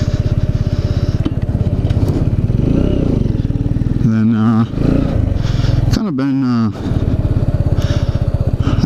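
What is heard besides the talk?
motorcycle with stock exhaust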